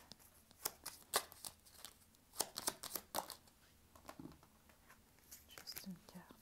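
A tarot deck shuffled and handled at close range, with quick irregular riffles and soft papery flicks in scattered bursts, quiet overall, with a low voice murmuring in places.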